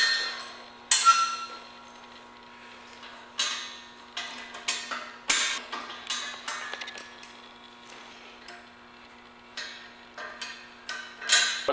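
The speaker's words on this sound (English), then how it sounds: "what we're going to do is just take these cotter pins out of here" Small metallic clicks and light clinks come from cotter pins being worked out of a K2 Storm snow plow frame, scattered irregular taps close by over a quiet background, no talking.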